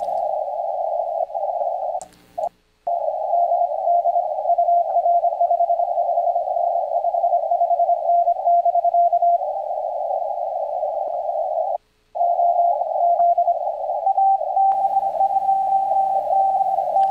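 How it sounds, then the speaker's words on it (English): A CW Morse code radio pileup of callers zero beating on nearly the same pitch forms a dense, almost unbroken tone with brief gaps, steady and clear, as overlapping keyed signals blur together, and faint static shows near the end. "let's listen to the pileup after his QSO, which goes right back to a lot of people that are zero beating"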